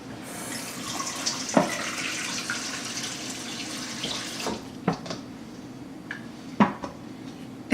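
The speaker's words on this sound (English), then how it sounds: "One we're gonna wash with regular tap water." Tap water running into a kitchen sink while pork spare ribs are washed, a steady hiss of flow broken by a few sharp clanks of dishes or utensils, with no talking.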